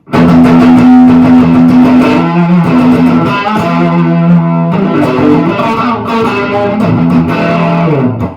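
Loud distorted electric guitar, a 1979 Ibanez MC 500, playing chugging chords and riffs, continuous and heavily overdriven, with no voices.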